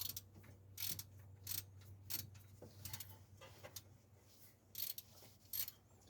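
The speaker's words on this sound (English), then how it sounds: "That ratcheting breaker bar is great, but it doesn't get much of a throw on it." Ratcheting breaker bar turning a serpentine belt tensioner during belt replacement: repeated bursts of sharp pawl clicks in uneven spurts, close and fairly quiet over a low steady hum.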